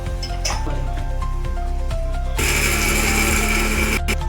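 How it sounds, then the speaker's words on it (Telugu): A mixer grinder motor whirs and grinds with rattling contents being ground to powder, then shifts to a louder, higher whine partway through before cutting briefly near the end. "మిక్సీ గిన్నెలోకి వేసుకోవాలి ఇవి గ్రైండర్ చేసుకోవాలి పూర్తిగా పౌడర్ చేసుకోవాలి"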